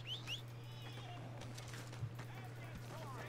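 A horse whinnies in Red Dead Redemption 2, a high, wavering neigh near the start, followed by light hoof clip-clop over a steady hum of game ambience.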